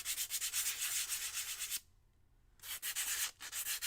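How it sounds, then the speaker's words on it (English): Two sheets of sandpaper rubbed together to clear out clogged grit during a floral craft kit project, giving close, rapid, rhythmic scratchy strokes that stop for a brief pause and then resume. "Sometimes when there's stuff in my sandpaper, I'll just like rub them together to get it to come clean."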